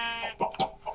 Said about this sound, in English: I don't want to get away from these chickens.